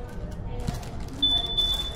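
A single thin electronic beep from a Yamaha Mio Aerox scooter's keyless remote answer-back rings out midway and holds briefly over quiet background noise.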